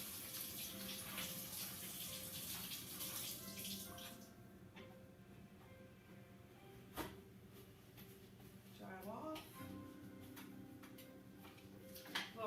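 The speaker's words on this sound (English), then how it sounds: "Wash my hands." Hands washed under a running kitchen tap, with a steady loud water rush for the first few seconds that then drops to a quieter trickle, with scattered clicks and a soft voice afterward.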